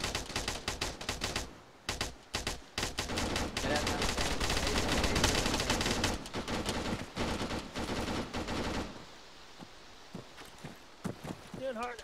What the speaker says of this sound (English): That enemy fire sounds too close for comfort